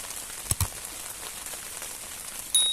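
Heavy rain falls at a campsite as a steady, even hiss of drops pattering on surfaces, with a couple of louder taps near the start and a sharper patter at the end.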